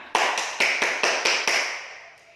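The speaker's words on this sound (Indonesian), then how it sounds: "mari kita berikan aplaus untuk kita semua" A classroom lesson breaks into a short burst of six sharp, evenly spaced claps, loud and close, each fading quickly before the next, ending in a brief decaying tail with no talking.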